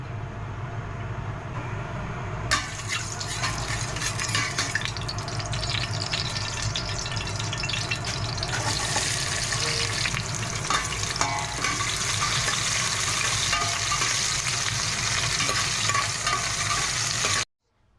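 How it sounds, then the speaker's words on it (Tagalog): Aromatics for a Filipino chicken soup sizzle and are stirred in a hot pan, a continuous loud frying hiss that swells sharply a few seconds in and carries on steadily without talk. "Maggisa muna tayo ng ating mga panahog."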